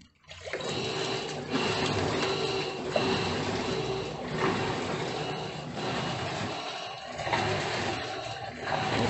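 A washing machine with a strong turbo agitation mode churns water and clothes steadily, with a constant sloshing wash and rhythmic surges about every second and a half, close and alone.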